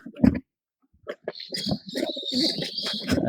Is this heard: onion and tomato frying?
no